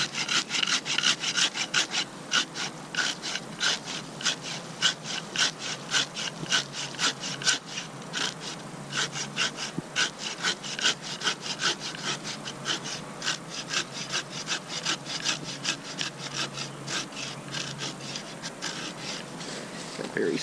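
A hand saw cuts back a branch of a grafted canistel tree, making quick, regular rasping strokes that repeat steadily and close for about twenty seconds, with someone talking quietly now and then.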